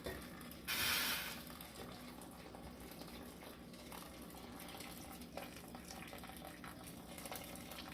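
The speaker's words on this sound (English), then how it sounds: "Now I'm going to put in my water." Hot water is poured over potatoes in a pot for a Mexican potato and cheese soup. A brief louder splash comes first, then a soft, steady stream of pouring and trickling continues, close and fairly quiet.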